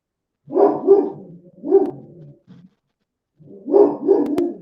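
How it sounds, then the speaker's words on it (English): An excited dog barks loudly and close by near a beach while fishing, giving a quick pair of barks, a single bark, a pause, then another rapid pair. "The dog's all excited about something."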